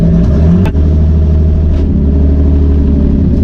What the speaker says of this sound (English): It was probably a one-tire burnout